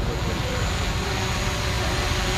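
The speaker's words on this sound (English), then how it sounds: "These boys out here racing drones" Racing drones flying at a track day, a continuous loud buzzing whine of motors and propellers with no breaks.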